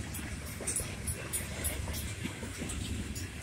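A CSX freight train passes with a constant low rumble and faint wheel clatter, steady and moderately distant throughout the short stretch.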